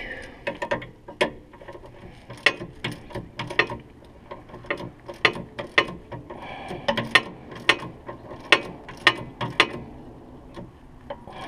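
A ratchet tightening sway bar bolts on a Scion FR-S or Subaru BRZ, heard as close, sharp clicking in repeated quick runs with short pauses between strokes, alone with no talking.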